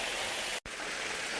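Heavy rain pouring outdoors, a steady dense hiss like a downpour on surfaces, with a brief cut to silence midway before the rain resumes just as loud.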